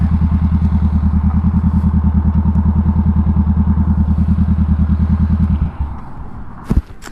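A 2020 Honda CBR500R motorcycle idles loud and close with a rapid, even engine pulse, then cuts off near the end, followed by a couple of clunks and quiet handling noise.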